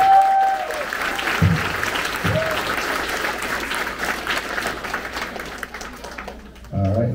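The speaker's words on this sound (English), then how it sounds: "Let's give it a big round of applause" Audience applause fills a sixth grade promotion ceremony at Woodbury Elementary School, a steady wash of many hands clapping that lasts throughout, with a brief voice near the start and louder clapping swelling again at the end.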